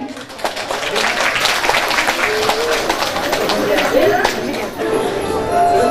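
Applause for children taking part in a contest, a dense crowd clapping heard under chatter, voices and bird calls that sound like cooing pigeons.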